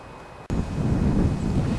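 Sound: wind

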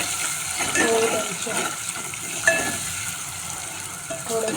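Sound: vegetables with tomato being sautéed in oil in a pan

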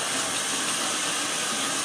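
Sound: tap water running over heat pump filter in sink

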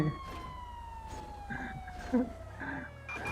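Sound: police car siren in a video game

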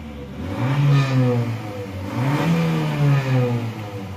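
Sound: car engine revving from idle

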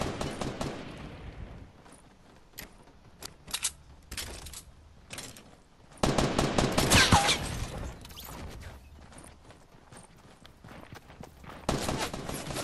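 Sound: shotgun fire in the video game Fortnite

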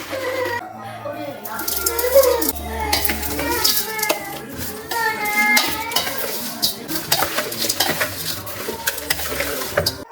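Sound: mixing cut citron pieces with salt

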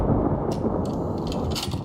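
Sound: loud thunder in a horror video game

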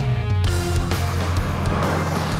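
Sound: V8 engine in small car

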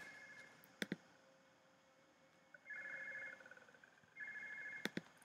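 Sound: telephone ringing

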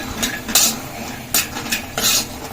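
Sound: peanuts being roasted in a little oil

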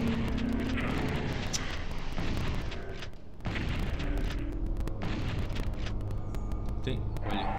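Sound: machine gun fire in video game Doom 64

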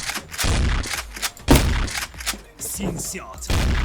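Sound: gunfire from a video game

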